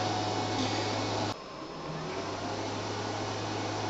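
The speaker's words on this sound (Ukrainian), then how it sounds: "Спрацьовують вентилятори, вентилятори, вентилятори включились обидва." Two cooling fans in a DATOUBOSS ZGR-03 / DN-03 48/220V 2200W inverter whirring steadily. The hum shifts abruptly partway through and the fan noise continues as a constant near drone.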